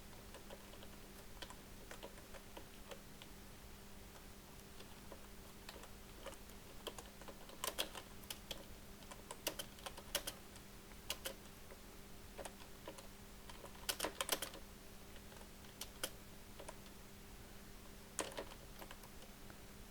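Faint key clicks sound as an address is typed into a resume on a computer keyboard, quiet irregular taps that bunch into quick runs with short pauses between them over a low steady hum.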